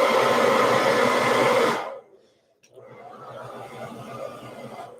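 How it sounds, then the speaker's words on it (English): Loud, steady roar of a blow dryer aimed at cold bare feet at a nail station, cutting off after about two seconds, then restarting more softly. "my feet are a little cold, so that's why I got this blow dryer on them"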